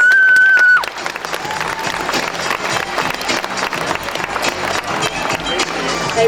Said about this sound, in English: Here's a round of applause from our family to yours